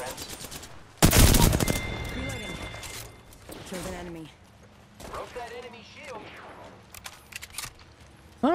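Heavy automatic gunfire from the Apex Legends video game erupts in a loud, dense burst, followed by more scattered shots and game sounds, with a player talking in between.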